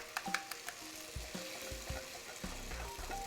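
Eggs sizzle as they cook in a pan, a steady crackling frying hiss with a few soft knocks and stirring sounds, close and moderately quiet with no speech.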